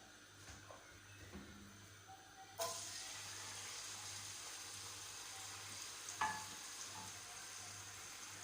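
Chopped onions frying in hot oil inside a cooking pot for a homemade potato dish, a steady soft sizzle that jumps louder as the onions go in and carries on evenly, with a brief clink partway through.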